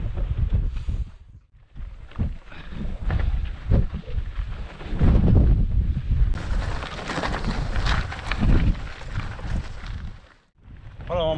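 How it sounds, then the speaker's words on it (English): Strong gusty wind in the Quantock Hills woods roars and buffets continuously, rumbling low and loud with brief lulls, as if battering a microphone outdoors. "It's very windy and blowy"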